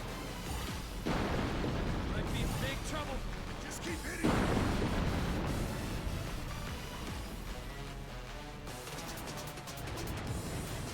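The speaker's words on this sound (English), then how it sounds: "That wave cannon actually does some pretty good damage." Wave cannon attack blasts in the video game Stranger of Paradise, a dense roaring barrage of booming, crashing bursts that runs continuously and loud, with another heavy impact partway through.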